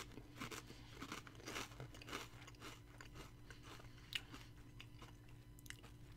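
Lay's gyro-flavored potato chips being bitten and crunched up close, with a run of crisp bites and chewing crackles over a low steady background hum, no talking.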